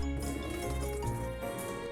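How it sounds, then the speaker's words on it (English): Water is poured off washed red beans while making anko, a soft, steady liquid splash and trickle with some drips, continuous at low level under a sustained musical backdrop. "I'm gonna throw away this water for the one last time."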